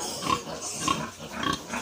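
Pigs on a farm grunt and squeal in short repeated bursts at a steady rhythm, fairly close, with faint background noise and no talking.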